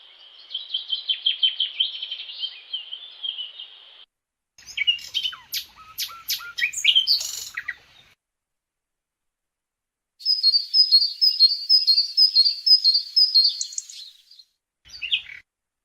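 Recorded birdsong from a garden and holiday places, layered into a natural forest soundscape: bright trilling phrases, a burst of varied chirps, a gap of silence, then a long sustained trill and a brief final call.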